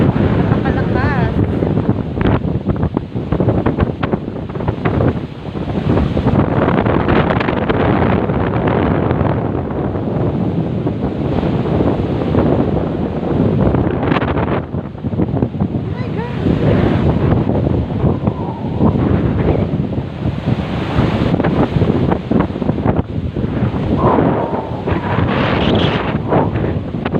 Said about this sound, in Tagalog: tingnan nyo yung alon. Napakalakas.